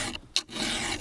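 A hand file rasps against the teeth of a chainsaw ripping chain in a couple of quick, close, scratchy strokes with a brief pause between them.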